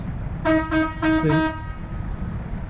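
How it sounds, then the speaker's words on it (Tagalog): A loud truck horn honks four times in quick succession, each blast a bright, brassy tone over steady road and engine noise in heavy traffic on a road toward Infanta. "Lakas ng busina nung truck."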